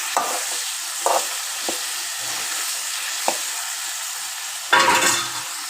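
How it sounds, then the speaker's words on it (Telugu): Okra frying in oil along with ginger, garlic and turmeric, a soft continuous sizzle broken by several stirring scrapes and one louder stir near the end. "ఒక ఐదు నిమిషాలు ఆయిల్లో ఫ్రై అవ్వాలి ఇవి అల్లం ఎల్లిగడ్డ మొత్తం పసుపు ఇవన్నీ ఇప్పుడు ఫ్రై అవ్వాలి బెండకాయలు కూడా"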